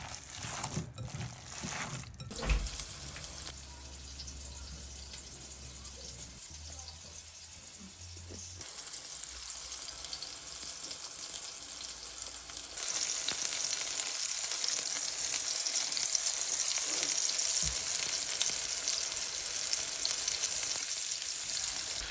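Turkey cutlets sizzle and crackle in a preheated pan, a steady frying hiss that grows louder and brighter partway through, with occasional clinks.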